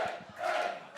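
A crowd at a match cheers and roars in a short, steady swell, its noise broad and somewhat distant.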